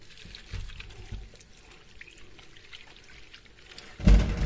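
Village apples from Amasya are washed under running water, a soft steady trickle and splash close by that swells into a louder gush at the end.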